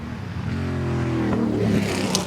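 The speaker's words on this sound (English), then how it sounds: "All sounds quite normal for Stuart Hall's car." Historic racing car engine at the Goodwood Revival, a steady droning note that climbs in pitch as the car accelerates, fairly close and heard alone.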